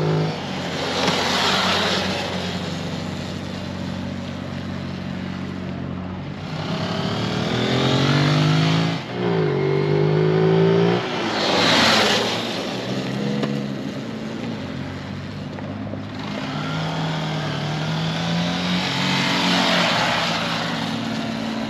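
A small Zontes 125cc motorcycle engine drones and revs up and down, rising and falling in pitch with a steady rush of wind throughout.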